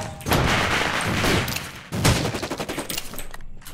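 Gunfire in the shooter video game Rules of Survival: loud bursts of rapid automatic shots in two stretches, separated by a short gap, ending in a few quieter single shots.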